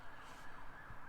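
A police siren wails near a hiking area at Clifty Falls in Indiana, a steady, slightly rising tone held through the whole brief moment over outdoor background noise.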